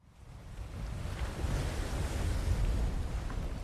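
Ocean surf in the film Cast Away rolls in as a rising, rumbling wash of breaking waves with wind, building steadily louder over a few seconds.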